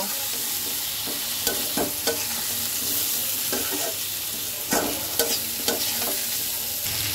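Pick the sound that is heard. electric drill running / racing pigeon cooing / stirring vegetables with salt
stirring vegetables with salt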